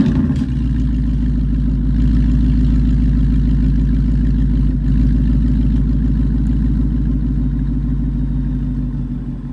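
A 2019 Mustang GT V8 with active exhaust in normal mode cold-starts with a brief crank catch, then settles into a loud, steady, rumbling idle that holds close and continuous, easing slightly toward the end.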